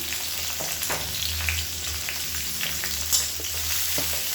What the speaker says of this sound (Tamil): அந்த வெங்காயம் நல்லா வதங்கட்டும்.